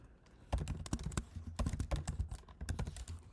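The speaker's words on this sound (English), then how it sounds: "I'm just typing" Fast, uneven keystrokes clatter on a computer keyboard while someone speeds through a data science worksheet, close and clear with no talk.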